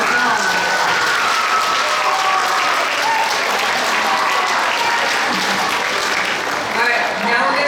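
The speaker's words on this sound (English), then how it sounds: "Let's give the Advanced Orchestra a better round of applause." Loud, dense applause from a middle school concert audience fills the hall for the Advanced Orchestra, continuous and even throughout with faint crowd murmur mixed in.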